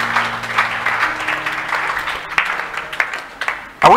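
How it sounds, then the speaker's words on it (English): A church congregation breaks into applause at a live Sunday service, a scattered, uneven burst of clapping over a lingering sustained tone that thins out toward the end. "Clap for Jesus for this realization."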